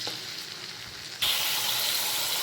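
Cauliflower florets hit hot white oil and butter in a pan, and a quiet background hiss suddenly jumps to a loud, bright, continuous sizzle.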